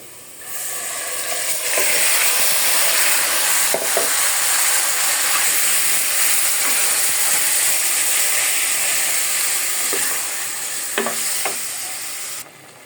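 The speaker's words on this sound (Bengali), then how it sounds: "এখন আমি মশলা মাখানো মাংসটা দিয়ে দেব" Spice-coated beef, rubbed with turmeric, chili, ginger and garlic, goes into a pan of cooked onions, setting off a loud, steady sizzle and hiss of frying with a few scraping stirs and clinks over about twelve seconds.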